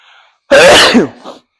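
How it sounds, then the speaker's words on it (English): A single loud, explosive sneeze close by, bursting out after a brief quiet and trailing off into a short breathy exhale. "I've been sneezing all day or all morning"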